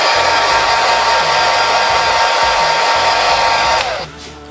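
A hair dryer blows steadily and loudly at close range to speed-dry paint during a fine art painting session, a constant broadband whoosh with a low motor hum that cuts off near the end.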